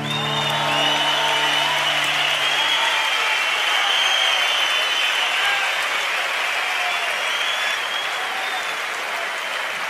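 A theatre audience at an acoustic rock concert bursts into sustained, dense applause right as a song ends, the last instrumental notes fading underneath as the clapping fills the hall.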